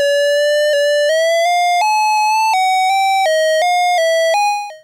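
ARP Odyssey synthesizer with oscillator 1's pitch modulated by the LFO while a single key is held, giving a bright buzzy tone that jumps between discrete pitches in a steady stepping pattern, loud and alone.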